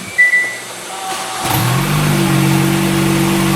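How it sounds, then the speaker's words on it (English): A 2021 Hyundai Sonata engine cranks and catches, then settles into a steady idle hum that continues to the end. "I'm just gonna start the vehicle"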